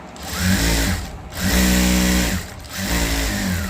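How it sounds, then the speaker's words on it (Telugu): A sewing machine stitches straight lines through folded cloth in three steady motor runs with short pauses between them, a close whirring hum. "మిషన్ పైన చక్కటి కుట్లు ఎలా కుట్టాలి అనేది చూపిస్తాను చూడండి"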